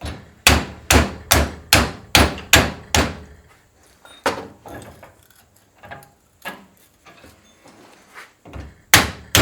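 A BMW E87 rear shock held in a vise is struck with a hammer in a steady run of eight sharp metallic blows, followed by slower, quieter scattered hits and one last loud strike.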